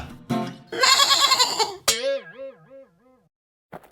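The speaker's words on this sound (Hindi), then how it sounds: "रमन और कीमती बकरा।" Goat bleating in a comic-style cartoon, a coughing, throaty burst followed by a loud wavering bleat that rises and falls several times before trailing off, clear and close.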